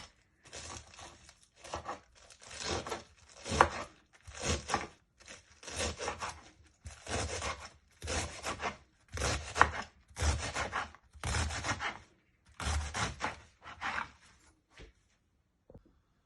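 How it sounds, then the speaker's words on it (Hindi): Cabbage being finely chopped with a knife in a home kitchen, a steady series of crisp, close blade strokes in short bursts with brief pauses between them, no talking. "कैबेज को काट लेते हैं बारीक बारीक करके।"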